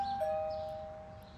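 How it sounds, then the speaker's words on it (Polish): A doorbell rings in the video game Beyond: Two Souls, a single clear electronic chime tone that rings out and fades over about a second, quiet and without talking. "Ding dong."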